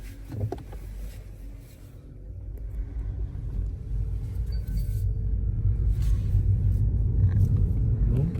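An electric MINI Cooper SE drives along with a low, steady road rumble and tire hum that swells gradually as it picks up speed, heard from inside the cabin with no engine note.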